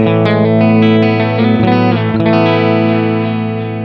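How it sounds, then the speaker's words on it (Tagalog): Electric guitar run through an EVH 5150 cabinet simulation on an M-vave MK-300 unit, loud sustained chords with a few picked re-attacks, thick harmonic ring and no talk. "Ganito naman yung tunog ng ating EVH."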